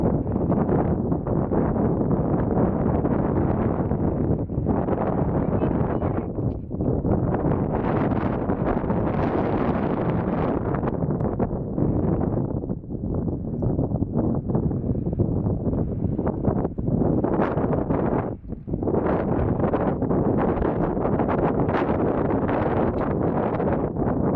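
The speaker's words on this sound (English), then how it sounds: "Hold on, it's getting windy." Steady, heavy wind buffets the microphone with a constant low roar and rumble, gusting and dipping briefly throughout.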